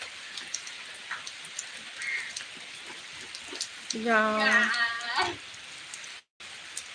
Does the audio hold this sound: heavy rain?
yes